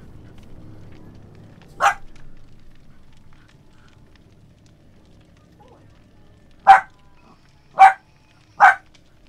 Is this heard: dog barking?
yes